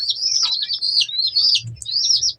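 Pet finches kept indoors alongside quails chirp up close in quick bright twittering phrases, three bursts of song over a low background hum, with no talking.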